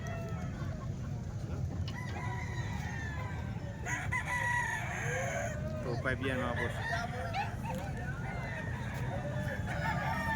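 Many roosters crow repeatedly among clucking chickens at a busy Tuesday poultry market in Calumpit, the calls overlapping near and far over a dense crowd murmur, with someone speaking briefly.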